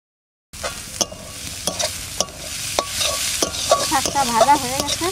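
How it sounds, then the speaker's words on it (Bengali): Sikkim mountain greens are stir-fried in a pan. A utensil scrapes and tosses them in a rhythmic pattern over a continuous close sizzle, with no talking. "শাকটা ভাজা হয়ে গেছে, কোন দিন বেশি ভাজবো না।"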